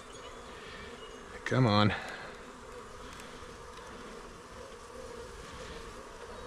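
Honey bees from shipped packages buzz steadily during installation into backyard hives, a low continuous drone throughout, briefly interrupted by a man's short spoken words.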